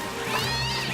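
A cat in the video game Cat Quest gives one clear, plaintive meow, close and drawn out over about a second with no talking.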